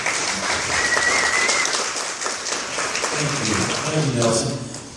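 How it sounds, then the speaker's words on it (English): Audience at a short film festival event gives a round of applause, a steady wash of clapping with a whistle near the start, fading slightly as a voice begins speaking over it. "Give him a round of applause."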